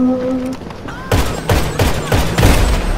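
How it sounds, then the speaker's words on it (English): Repeated heavy explosive blasts from grenades in GTA 5 Online, five or six booming hits about every half second, loud and close, with a player's voice over the opening. "I'm throwing grenades in the wrong fucking spot"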